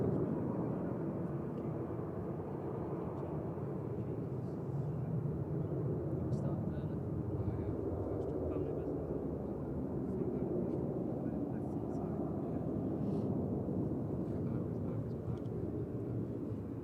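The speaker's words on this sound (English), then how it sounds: "There goes that little freighter," A small freighter plane departing Manchester Airport, a distant low rumbling roar that holds steady for the whole stretch, with a person talking over it.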